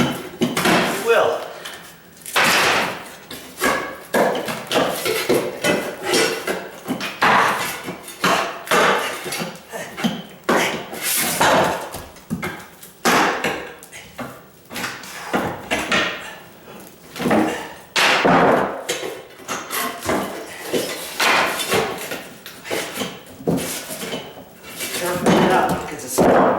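Oak floor planks are pried up in a condo rehab, with repeated sharp knocks, cracks and wooden clatters at an irregular, busy pace, close and loud, with a person talking between the impacts.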